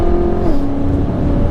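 A 1000bhp BMW M5 engine drones loudly from inside the car, its steady tone dipping slightly partway through as it surges under held-back throttle, with no talk.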